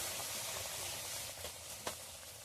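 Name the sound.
banana malpua frying in oil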